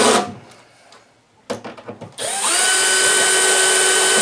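Close, loud power drill tightening screws into a speaker basket: a few brief clicks and short starts, then a sustained whining run at steady speed to the end.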